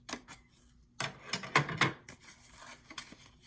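Scissors snipping a tiny scrap of paper for a journal pocket: a few crisp close cuts, a quick cluster of snips in the middle and a lighter one near the end, with quiet pauses between.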